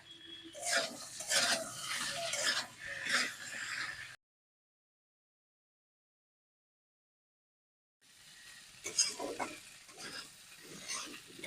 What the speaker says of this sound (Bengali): এবারে আমি সব কিছু খুব ভালো করে নাড়াচাড়া করে নেব